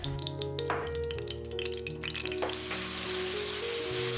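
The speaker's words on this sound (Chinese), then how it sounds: "把番茄炒出汁水" Chopped tomato pieces frying in oil in a hot wok, giving a dense, continuous sizzle close by with faint clinks of the spatula and no speech.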